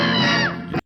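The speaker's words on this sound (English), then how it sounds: "It's got screaming." A crowd of people screams in a film trailer, one loud, dense burst of yelling that holds for most of a second and then cuts off abruptly.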